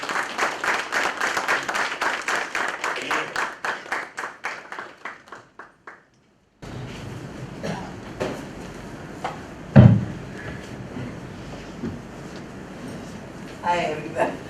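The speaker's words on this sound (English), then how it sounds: "Advocate Gayatri Singh, please give a clap." Audience applause at a seminar, a burst of clapping hands that fades out after several seconds, followed by room noise, scattered sounds and a person beginning to speak.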